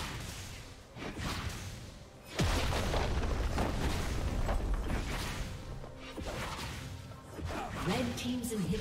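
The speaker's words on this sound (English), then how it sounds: "Red team's turret has been destroyed." Turret destruction in a League of Legends match, Swain against Irelia in mid lane: a sudden heavy booming crash with crumbling debris and whooshing effects, loud and sustained, layered with game music and announcer-style effects.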